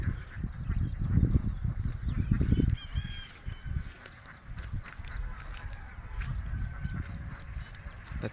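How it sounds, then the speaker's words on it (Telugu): A flock of ducks swimming on water outdoors in the morning near Suryapet, giving repeated honking, quacking calls in short bursts, loud and fairly close, with splashing and background noise. "బాతులండి"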